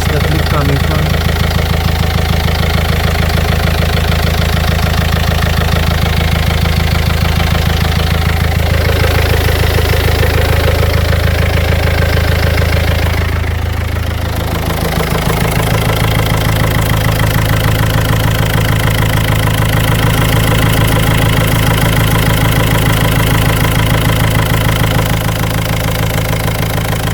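A worn Renault Megane Mk2 1.5 dCi diesel with over 238,000 miles runs noisily, a loud, close, steady idling clatter with a rhythmic knock, a brief dip in tone midway, then settling back into the same rough drone.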